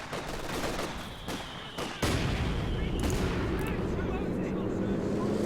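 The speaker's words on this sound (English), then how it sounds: "Our commandos are getting ripped apart by the LMG" Light machine gun fire in Company of Heroes 2, a dense rattling stream of shots over battle rumble, with a sudden louder burst of heavy firing midway and game voices underneath.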